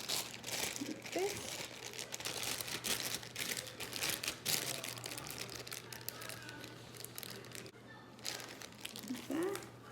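A plastic piping bag of cake frosting crinkles and crackles in steady bursts as icing tips are switched, close and fairly loud throughout, with a low background hum.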